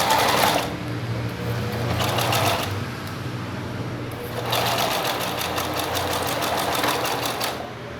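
A sewing machine stitches a backstitch along the edge of a small fabric pouch, its rapid mechanical chatter running in two close bursts separated by a quieter pause.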